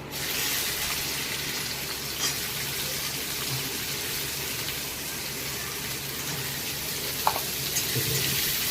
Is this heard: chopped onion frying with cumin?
yes